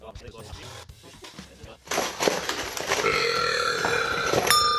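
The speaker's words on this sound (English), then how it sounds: "And there's belch number 1." A loud, drawn-out belch rumbles up after a moment of quieter background noise, with some scattered sounds around it.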